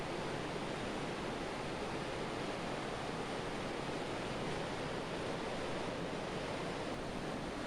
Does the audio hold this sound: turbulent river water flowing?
yes